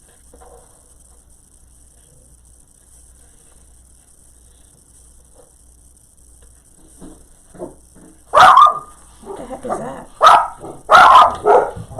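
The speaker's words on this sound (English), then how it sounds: "the dogs bark at the wind" Several household dogs break into loud, close barking after a long quiet stretch, with sharp repeated barks bunched toward the end while a person speaks briefly.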